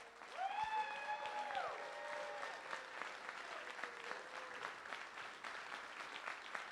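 A crowd at a live event claps steadily, a broad wash of applause that holds throughout, with a few brief tonal chimes early on.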